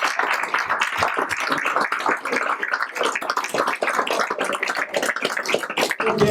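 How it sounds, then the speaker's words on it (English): Guests at a county winter gala applaud the award recipients, a sustained round of many hands clapping at even loudness throughout, dense and fairly close. "a round of applause to every one of our recipients for these awards tonight"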